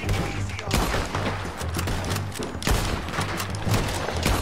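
Heavy, sustained gunfire in Red Dead Redemption 2, loud overlapping shots forming a continuous fusillade with a few sharper blasts standing out.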